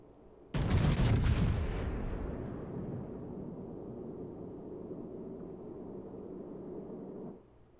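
A salvo of naval guns from the battleship Missouri in World of Warships, one loud booming blast that rolls into a long, fading rumble lasting several seconds, with no voices.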